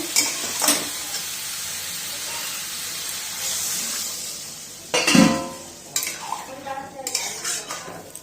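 Water poured into a sizzling egg and potato-cauliflower curry brings a loud hissing burst and bubbling, preceded by metal spoon clinks and pan sizzle, with stirring scrapes after.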